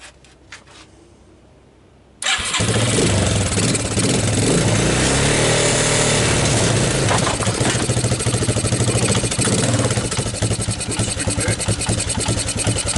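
A Suzuki Quadrunner LT230 ATV engine catches after a quiet moment on its first start, then idles loudly and steadily close by with a rough, clattering mid-pitched chug.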